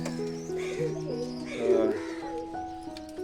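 Soft, low cooing from white pigeons kept in a cage, several rounded calls overlapping close by, with a faint higher chirp in the background.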